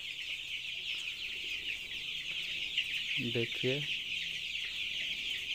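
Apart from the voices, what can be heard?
FFG cross chicks clucking in open pen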